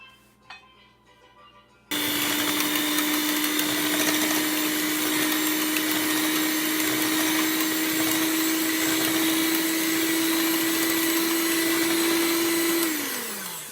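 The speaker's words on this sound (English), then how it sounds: "we're going to put the blender and blend up these bad boys" An electric blender whirs loudly and steadily for over ten seconds as it mixes ingredients for a Trinidad sponge cake, starting abruptly and winding down at the end.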